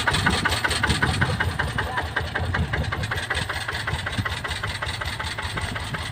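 Car engine idling after exhaust welding work, a steady rough rumble with fast regular exhaust pulses, close and fairly loud throughout, with no talk.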